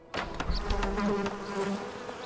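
Bees buzz steadily in the game Pax Dei as hives are placed, a close insect drone that starts abruptly after a short click and holds for a couple of seconds.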